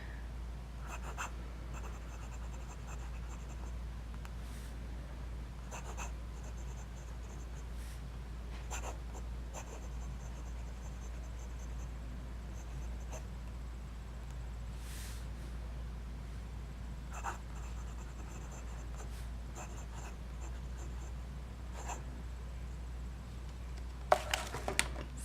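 A Namisu Nova fountain pen scratches softly across paper in a quiet room, making faint, intermittent strokes over low background hiss, with a few sharper ticks near the end.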